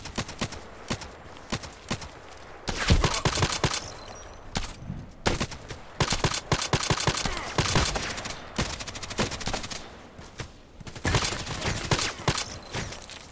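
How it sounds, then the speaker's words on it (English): In a video game, mortar fire and heavy gunfire come in loud bursts of rapid cracking blasts separated by quieter gaps, with several dense volleys across the stretch. "And they have mortar going on."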